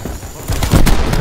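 Rifle fire in Call of Duty Black Ops 4 multiplayer: loud close shots crack out in quick succession over a busy game soundscape, building in the second half.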